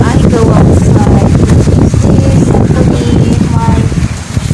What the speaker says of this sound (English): because you know it's too windy, to make it safe before I go outside.